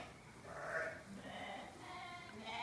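A ewe on a homestead bleats softly in a couple of short calls, set against steady outdoor background noise with no talk.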